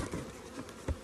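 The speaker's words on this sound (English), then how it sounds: "I still have a bunch of bees stuck in here" Russian honey bees buzz faintly and close by indoors as a soft, wavering drone, with a slightly louder buzz passing near the end of the one-second stretch.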